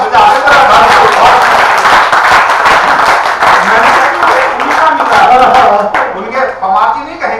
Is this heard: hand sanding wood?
no